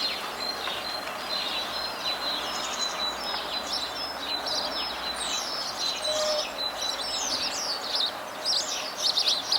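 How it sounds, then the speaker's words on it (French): Birds chirp and sing steadily throughout in a garden, several high calls overlapping, with a soft continuous buzz of insects beneath. "Bourdonnements et chants d'oiseaux se font entendre."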